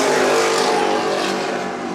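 Super Vee class racing powerboats approaching at the 2024 Key West World Championships, a loud, steady engine roar that holds strong throughout and eases slightly toward the end.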